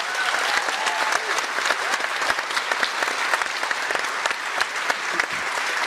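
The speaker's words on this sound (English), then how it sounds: "give all our panellists a huge round of applause" Steady applause from a large audience, dense clapping filling the whole stretch at an even loudness.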